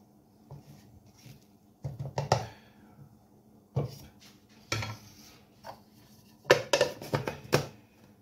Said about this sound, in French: on va donner un coup de main avec la maryse pour que ça se mélange bien